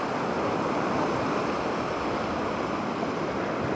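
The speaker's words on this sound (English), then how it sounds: "What you see in front of me there is that churning white water" Churning white-water surf breaks along the shore close by, a dense, steady wash of crashing waves with no voices.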